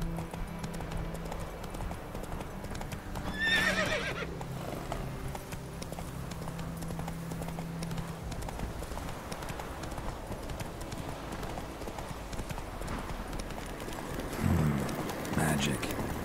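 Roach, a horse in the video game The Witcher 3, trots with steady hoof clip-clops over a rainy background, with a short neigh-like burst early on. Someone speaks briefly.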